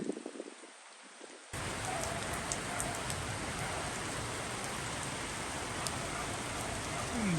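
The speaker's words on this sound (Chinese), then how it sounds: "现在下雨了" After a quieter opening second, a dense roar of heavy rain sets in and pours steadily, loud and close, with no talking.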